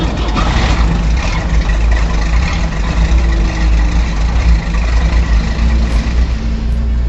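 An old truck engine idles with a loud, steady, close rumble and throb that continues without a break.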